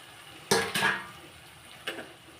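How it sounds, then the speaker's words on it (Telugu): Drumsticks (moringa pods) dropped into a tomato curry in a pan, with two clattering bursts close together and a softer third knock, over a quiet background. "ఇప్పుడు మునక్కాయలు కూడా నేను వేసేస్తున్నాను"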